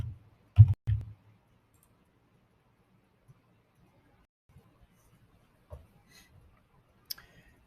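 Computer mouse clicking on folders, a few sharp close clicks near the start followed by sparse faint ticks across an otherwise quiet stretch.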